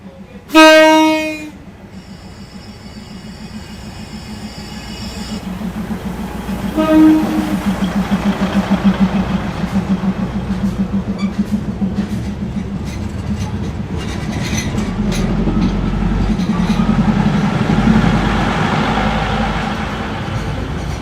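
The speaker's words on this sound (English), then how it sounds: "please enjoy the following train ASMR" A train rolls through a Thai market, opening with a loud horn blast, then a steady rumbling, clacking pass with a second short horn and the roar swelling near the end.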